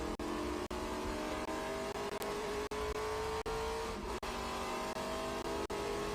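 A TA2 Trans Am race car at Watkins Glen, heard from onboard as it accelerates onto the front straightaway: a loud, continuous engine drone that climbs in pitch through the gears, with brief dips at each upshift.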